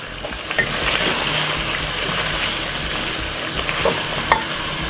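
A spoon stirs a pot of Jamaican curry chicken with carrot and potato, giving close scraping and clattering over a continuous frying sizzle.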